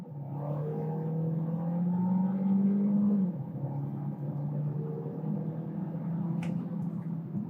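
Fiat Fastback Limited Edition making a stalled launch start in sport mode, a loud, steady engine drone rising then dropping as the car pulls away, with only a faint brief tyre chirp.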